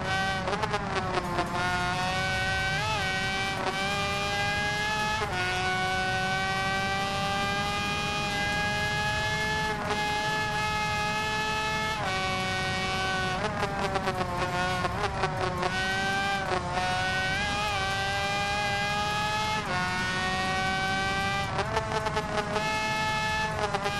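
A high-pitched Suzuki RGV 250R (1995) two-stroke motorcycle engine in the video game Ride 2 revs continuously on the Ulster GP circuit, its whining pitch climbing and dropping sharply with each gear change, loud and close with no voices.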